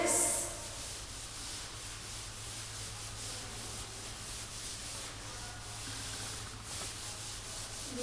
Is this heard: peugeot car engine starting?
no